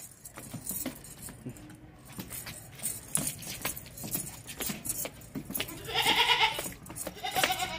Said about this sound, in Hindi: बहुत ही ऊंची लंबी ज़बरदस्त किस्म की बकरी है।